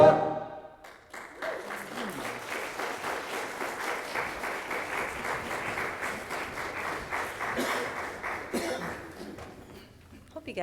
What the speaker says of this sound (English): Hope you guys don't get tired of us clapping for you